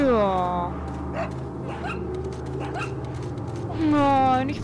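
A dog whimpers and whines in Resident Evil 4, with high pitched cries at the start and again near the end and a steady game background hum between them.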